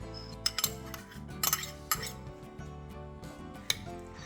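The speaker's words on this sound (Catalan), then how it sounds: "Ho barregem i hi posem l'ou." Tuna, olives, red pepper and egg stirred together in a bowl for a summer Swiss roll filling: soft clinks and taps of a utensil against the bowl, scattered sharp knocks over a quiet background with faint music.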